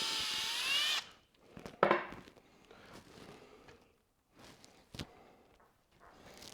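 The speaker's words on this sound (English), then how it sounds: "So we're going to have to re-drill that, or not re-drill, but drill another." A power drill whirs briefly at full speed, drilling a hole during a motorcycle fairing stitch repair on a Yamaha Tenere 700, then stops, followed by scraping, knocks and a sharp clunk of handling wood and tools.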